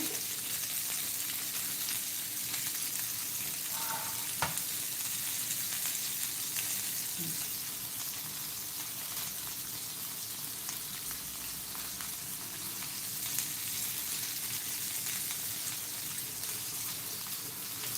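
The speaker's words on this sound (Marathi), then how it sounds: "आता आपण दुसरे जे बांगडे आहेत ते तळायला घालूया" Bangda (mackerel) fish frying in oil, a steady dense sizzle that holds evenly throughout, with an occasional faint knock or clink.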